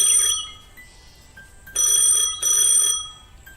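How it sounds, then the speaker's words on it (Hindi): A phone in an office rings in bursts of bright electronic trilling tones, three rings with short gaps between them, close and loud with no talking. "एक दिन राहुल जब ऑफिस में काम कर रहा होता है तभी उसका फोन बजता है।"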